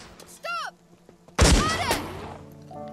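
A loud gunshot-like blast from a weapon someone is practising with, a sharp broadband burst followed by a ringing decay, preceded by a brief high-pitched sound.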